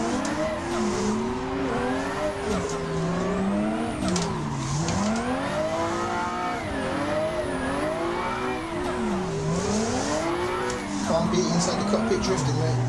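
A 400 bhp Nissan 180SX drifts at a street circuit in Assetto Corsa. The engine revs loudly and keeps rising and falling, with tyre squeal and skidding over about thirteen seconds of continuous, close-up sound.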